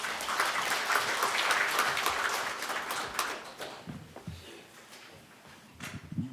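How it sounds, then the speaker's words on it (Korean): An audience applauds at a Buddhist spring dharma service held at the National Assembly, a dense, even clapping that swells for a few seconds and then thins out into scattered claps and shuffling. "큰 박수로 맞아주시기 바랍니다"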